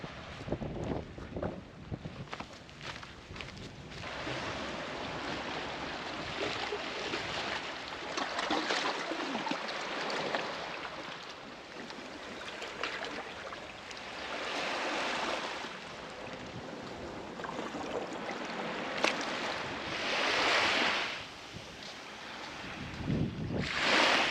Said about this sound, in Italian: Questo è il mare alla nostra sinistra e questa è la spiaggia